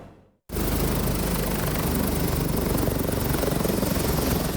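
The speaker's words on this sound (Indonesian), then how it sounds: "Polri mengerahkan 4 helikopter untuk mengamankan upacara 17 Agustus di Ibu Kota Nusantara" Police AW189 and AW169 helicopters securing an Independence Day ceremony in Nusantara, a loud, steady rotor and turbine roar that cuts in abruptly after a short quiet moment and holds throughout.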